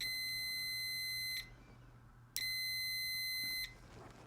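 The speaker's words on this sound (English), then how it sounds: "with the Milwaukee meter, it took about a second or two, about 1 second, 2 seconds for the continuity feature to kick in" A Milwaukee multimeter's continuity tester gives two steady, high electronic beeps, each lasting over a second, separated by a short quiet gap in a still room.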